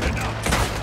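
Rapid repeater rifle gunfire in Red Dead Redemption 2 during a bank heist mission, a dense burst of shots in a short, loud and busy stretch of game sound.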